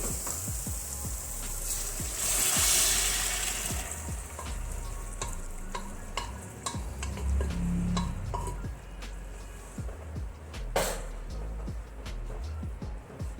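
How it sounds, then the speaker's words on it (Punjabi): Chickpeas tossed into roasted masala in a hot pan give a loud sizzling burst, then steady frying hiss broken by scraping stirs and sharp utensil clinks against the pan. "ਹੁਣ ਆਪਾਂ ਚਣੇ ਪਾ ਦੇਵਾਂਗੇ"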